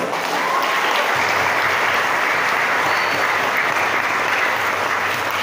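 A school audience claps during a deputy minister of religious affairs' visit to an Islamic boarding school, giving dense, steady applause at full volume throughout with no pauses.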